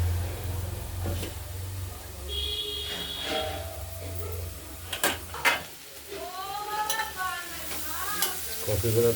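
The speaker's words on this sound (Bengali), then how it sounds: "মাঝে মাঝে নাড়তে হবে না হলে কড়াইটা আটকে যাবে" Potato and cauliflower stirred as they fry in oil in a kadai: a steady sizzle runs throughout, with scraping strokes of the spatula against the pan and a few louder clatters near the end.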